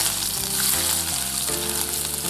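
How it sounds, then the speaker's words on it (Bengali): Chopped onions frying in hot oil for a Bengali fish dish, a steady close sizzle running throughout with no voices over it. "এই তেলের মধ্যে আমি এখানে পেঁয়াজ কুচি দিয়ে দিচ্ছি।"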